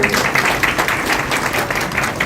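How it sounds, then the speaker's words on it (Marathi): Wedding guests at a Satyashodhak marriage ceremony clap together in a dense, steady round of applause lasting a couple of seconds, fairly loud and close. "सर्वांनी टाळ्या वाजवा"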